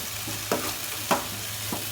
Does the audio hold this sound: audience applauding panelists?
no